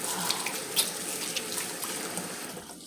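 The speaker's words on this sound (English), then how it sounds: "I'm gonna wash my hand again in this hot water." Hot tap water runs steadily into a kitchen sink during hand washing, a soft continuous splashing hiss at low level with no speech.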